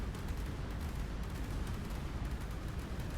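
A bomb strikes a ship in the naval game ShipCrafter, heard as a dense, continuous rumbling blast of crackling noise that stays loud and steady throughout without any clear separate hits.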